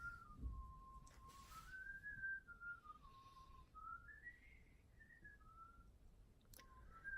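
Someone whistles a wavering melody, clear and fairly close, with short pauses between phrases and a faint click or two.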